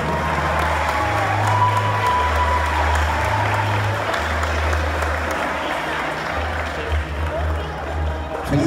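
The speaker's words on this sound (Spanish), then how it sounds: "Fuerte el aplauso." Sustained applause fills a school graduation ceremony hall, steady and fairly loud for several seconds, with a low humming tone and faint voices underneath.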